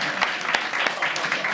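Studio audience applauding, a brief steady wash of clapping filling the whole moment at close, loud level.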